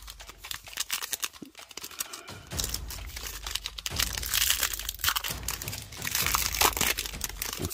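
Crinkly foil wrapper of a 2022 Donruss basketball trading card pack being torn open and crumpled by hand, a close, continuous crackling rustle with sharper crunches throughout.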